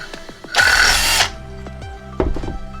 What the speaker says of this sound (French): Allez, c'est parti pour le perçage.